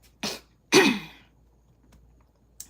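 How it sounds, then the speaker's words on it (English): A person clears their throat in a shower, giving two sharp rasping bursts, the second louder and longer, then a faint click. "I had to clear my throat."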